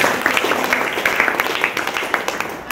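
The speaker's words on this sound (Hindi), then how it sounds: "तो देखिए गुरु जी के लिए जबरदस्त ताली के रूप में" Audience clapping for a guest at a seminar-style gathering: a brief burst of scattered hand claps from a small crowd, moderately loud, with faint voices underneath.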